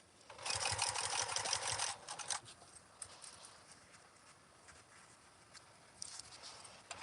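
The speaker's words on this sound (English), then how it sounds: "So I actually will reverse stitch over this and then stitch over it again one more time." Sewing machine reverse stitching over a zipper stop on a custom Tula Pink fabric bag: a fast, close mechanical whirring run of about a second and a half, then quiet handling with brief softer stitching bursts.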